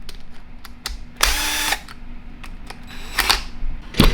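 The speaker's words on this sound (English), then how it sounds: "First step is to remove these body screws. It takes a T25 Torx driver to get at those." A powered driver with a T25 Torx bit spins out body screws on an Ingersoll-Rand 2235TiMax impact wrench, heard as two short whirring bursts among light clicks and handling taps, close and with no talk.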